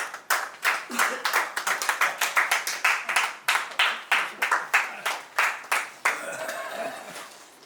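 Applause at a 1970-71 commerce batch reunion: a group claps in a strong, steady, rhythmic unison beat for several seconds, then dissolves into looser scattered clapping and crowd noise.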